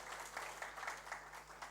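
An audience applauds at the opening of a regional working meeting of an Islamic waqf and land institution in East Java, a steady wash of clapping heard faintly from a distance.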